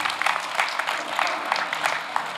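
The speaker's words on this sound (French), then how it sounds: "Vos applaudissements vont le faire arriver, je pense." Applause from an audience at a town hall New Year's greetings event in 2023, a dense steady patter of many hands clapping for about two seconds at moderate distance.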